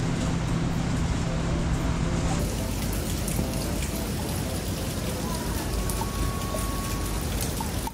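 Rain falls steadily on a quiet early-morning street in Kumamoto, a dense, even hiss of drops on pavement that carries on throughout, with faint distant traffic and no voices.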